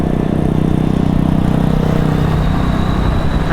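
Continuous street traffic with a loud, steady engine and exhaust rumble close by and wind noise mixed in, recorded outdoors beside a road with no talking.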